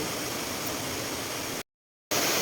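Steady broadband rush of Sarika Waterfall in Thailand, loud and continuous, with a brief full dropout partway through before the roar resumes.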